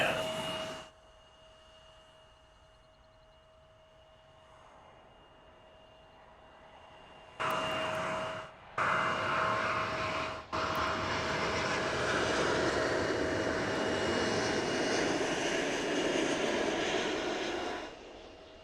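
A British Airways jet airliner lands at Toronto airport, its engine roar rising sharply and then holding as a loud, broad rush that fades near the end, with a steady tone running beneath it during the quieter start.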